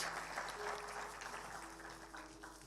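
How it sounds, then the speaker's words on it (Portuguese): A church congregation applauds the Lord, fairly quiet, diffuse clapping that fades gradually, with a faint steady tone running underneath and no talking. "Dê um aplauso bem forte ao Senhor."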